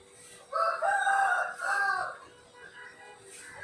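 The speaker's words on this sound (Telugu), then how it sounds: "తెల్లవారుజామున కోళ్ళు అయితే కూస్తున్నాయి వినిపిస్తున్నాయా" Roosters crow at dawn, one long loud cock-a-doodle-doo rising near the start and a second call following, with fainter distant crowing toward the end and no talking over it.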